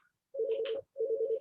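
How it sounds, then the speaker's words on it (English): A mobile phone rings indoors with two close, loud electronic tone bursts separated by a short gap, each a steady warbling pitch lasting about half a second. "Is that my phone? That's my phone"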